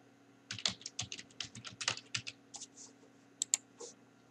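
Fingers tapping keys on a computer keyboard, a quick uneven run of close plastic clicks followed by a pause and then a few more presses.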